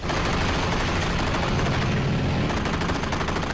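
Rapid, sustained machine-gun fire from a WWII fighter plane in combat over the sea, loud and dense bursts rattling continuously with no talk over them.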